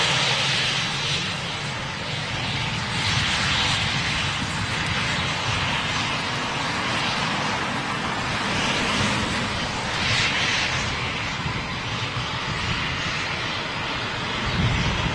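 Eurofighter Typhoon jet engines at RAF Coningsby roar steadily and loudly for the whole stretch, a broad sustained rumble with a hissing upper layer that swells slightly in places, no voices over it.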